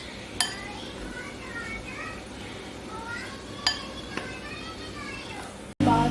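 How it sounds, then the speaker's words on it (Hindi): Spices are mixed into powder in a bowl for Lahori fish fry, making sparse metallic clinks of a spoon against the bowl over a steady background hum with faint voices. "अब मैं इसमें ये मसाले ऐड कर दूँगी। मसाले ऐड करने के बाद हम इस पाउडर को जो है मिक्स कर लेंगे।"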